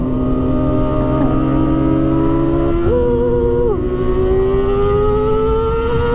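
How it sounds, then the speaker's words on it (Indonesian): A Kawasaki Ninja ZX-10R with a loud aftermarket exhaust revs up in several sharp throttle blips, its pitch rising and falling, then climbs steadily, close and loud and alone. "kita geber ZX10."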